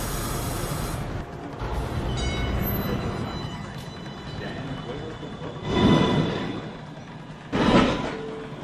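NYC Subway 2 train standing in a station, with a steady hum and rumble, a chime and door noises, and two louder bursts near the end as the train shifts and moves.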